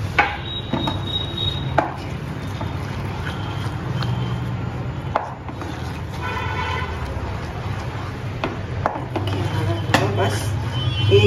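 Fried dry fruits are stirred into semolina halwa over a slow flame, with soft scraping and light clinking of a spoon against the pan, steady and close, under a low background hum.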